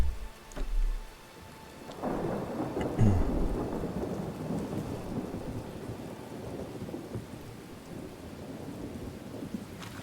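Ambient rain and thunder from the video game Thronebreaker: The Witcher Tales, heard as steady rain hiss over a low rolling rumble of thunder, moderately loud and uninterrupted, after a brief thud at the start.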